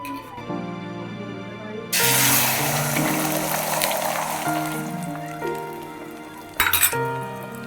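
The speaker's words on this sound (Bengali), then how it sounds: "এখন আমি ভেজে নিচ্ছি ডিমের অমলেট" An egg omelette fries in a pan, a bright sizzle bursting in abruptly and hissing steadily over soft background music, with a few quick clinks near the end.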